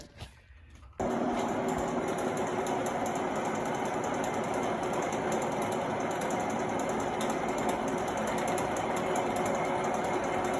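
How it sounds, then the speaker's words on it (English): A machine cuts a flywheel to fit a pilot bearing for a 4G63 engine swap into an S10, a loud, continuous whirring grind with a rapid mechanical buzz that starts abruptly after a quiet second and runs steadily. "Getting the flywheel all set up to cut for the pilot bearing."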